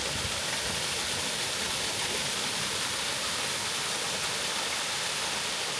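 A waterfall at the end of the Sertão Zen trail roars as a steady, even wash of rushing water. The sound is constant and fairly soft, with no voices.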